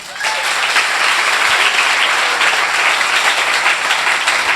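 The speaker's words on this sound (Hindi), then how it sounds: "तालियां बजा रहे हैं" A worshipping congregation claps together in a sustained, dense burst of applause, loud and close, filling the space steadily with no pauses.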